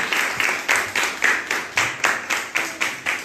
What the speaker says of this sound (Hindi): अरे बात ताली बजाकर स्वागत करेंगे